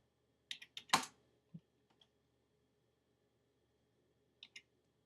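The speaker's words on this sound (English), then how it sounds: "I'm not gonna say it. I'm just gonna type it." A few quick, soft keystrokes on a computer keyboard as a command is typed, close and quiet in a still room, followed by a pause and two more taps.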